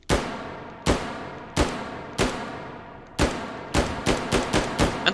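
A G11 rifle in the video game Hot Dogs, Horseshoes and Hand Grenades fires in semi-auto: sharp, loud single shots with ringing tails, widely spaced at first, then a faster run of five near the end.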